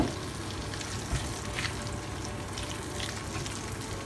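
Ghiya (bottle gourd) pieces being mixed into masala in a pan, giving a steady, close sizzle with faint stirring scrapes and no talk.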